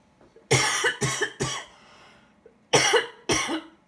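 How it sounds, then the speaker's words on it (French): Five sharp, raspy coughs, close to the mic: three in a quick burst, a pause, then two more, with a faint breath between. "excusez-moi pour la toux"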